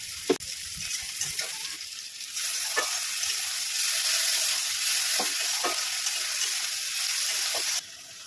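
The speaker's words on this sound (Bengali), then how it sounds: "পেঁয়াজটা ভেজে নেব" Sliced onion frying in a pan with dried chilli and a bay leaf, giving a steady loud sizzle with occasional stirring clinks and scrapes.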